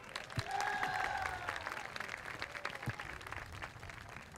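A crowd at a high school pep rally in a gym claps and cheers for a police chief. The applause sounds faint and distant, with scattered sharp claps and a few whoops through it.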